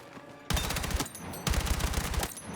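M4 rifle fire in Battlefield 6: two loud, close bursts of rapid automatic shots with a brief pause between them.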